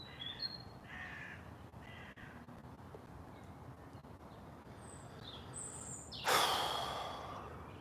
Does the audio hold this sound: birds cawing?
yes